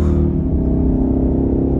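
A supercharged V8 Ford Mustang RS3 Phase 2 with a six-speed manual pulls hard in fourth gear, its loud, deep engine drone and rumble steady and close throughout.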